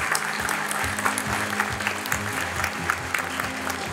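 An audience at a school graduation ceremony applauds with steady, dense clapping that stays even throughout, heard from within the crowd.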